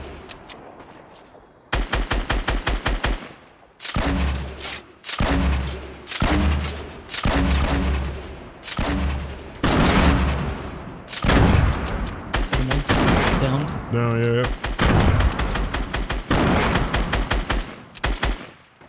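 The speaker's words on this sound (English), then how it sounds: "I feel like somebody's sniping at us." Gunfire in the Fortnite battle royale video game, sniper shots among it: loud, rapid bursts of shots repeat in quick clusters with brief gaps, and no voices are heard.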